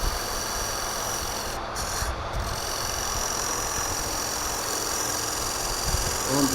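A wood lathe spins a cherry burl while a blade is held against it, producing a steady close motor hum with a rough rubbing scrape that continues evenly throughout, with no one talking.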